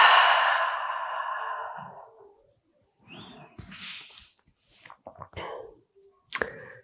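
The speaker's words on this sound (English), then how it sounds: "Inhale through nose, exhale through mouth." A deep, loud breath pushed out through the mouth during a full-body power flow workout slowly fades to nothing, followed by soft rustling and shuffling.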